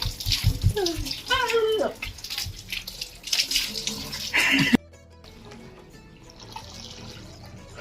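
Splashing and running water in a bath, with children's voices chattering and squealing over it, then a quieter stretch of trickling water.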